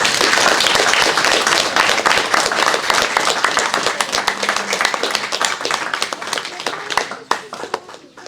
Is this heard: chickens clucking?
no